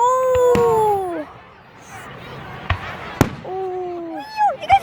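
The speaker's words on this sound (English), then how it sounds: "So many fireworks." Fireworks burst in several sharp, loud cracks spread across a few seconds, mixed with excited voices and whistling tones between the explosions.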